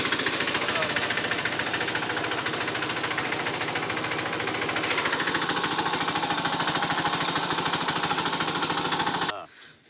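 A loud diesel tractor engine pounds in a fast, rough, knocking rhythm, straining continuously up close while stuck in mud, before cutting off abruptly near the end.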